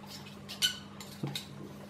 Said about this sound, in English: Now stir it with a little spoon.